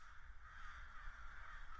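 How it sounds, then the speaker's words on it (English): A crow caws somewhere over a tall wheat field in a rural hollow, its calls faint and distant above a low steady rumble of wind. "The first crow lands."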